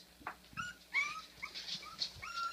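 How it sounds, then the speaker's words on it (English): Five-week-old English Bulldog puppies whine and whimper in a series of short, high, rising cries, close and fairly soft, with small yips between them and no talk. "They all want to play, that's why they're whining."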